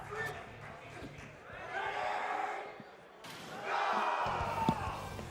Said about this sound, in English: Crowd's excited.